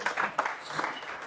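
A crowd applauding in a hall during a speech by Marine Tondelier at a Les Écologistes federal council meeting, with brief bursts of clapping that quickly fade, and no voices.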